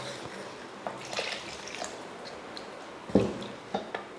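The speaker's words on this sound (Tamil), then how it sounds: "இப்போ குழம்புக்கு தேவையான தண்ணி சேர்த்துக்கலாம்." Water is poured into a tamarind curry made with brinjal and okra, giving soft, faint splashes and drips at a low level with no talking.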